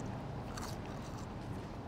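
Someone bites into crunchy seasoned chips at a burger meal, giving dense, close, steady crunching and chewing with scraping textures throughout and no talk.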